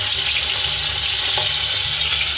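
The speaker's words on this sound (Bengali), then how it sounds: "এবার কিছুক্ষণ ধরে ভাজার পর বাকি পিসগুলো দিয়ে দেব" Gurjali fish heads frying in hot oil, a loud, dense, continuous sizzle with a faint low hum underneath and no voices.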